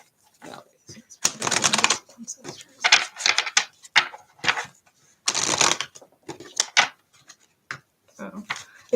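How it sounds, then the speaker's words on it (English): A tarot card deck being shuffled by hand in bursts of crisp riffling and flicking, with short pauses between them and a brief spoken word early on. "I'm just shuffling this deck right now for you"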